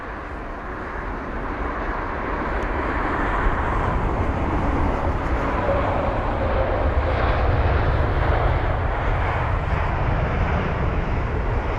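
A Boeing 787 airliner at London Heathrow produces a loud, steady jet engine roar that swells gradually and holds on without pause, with no voices over it.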